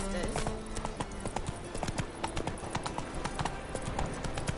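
Hooves of Roach, the horse in The Witcher 3, clip-clopping in a steady, close gallop rhythm throughout, with voices talking over the hoofbeats.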